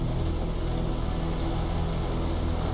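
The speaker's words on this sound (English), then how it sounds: "they're probably hiding from the rain too" Steady rain falls in The Caribou Trail video game, a dense continuous hiss of drops on surfaces with a faint low hum beneath and no voices.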